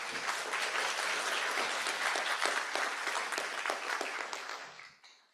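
Symposium audience applauds the speakers, a dense, even patter of clapping from a full hall that continues for several seconds and then tapers off quickly.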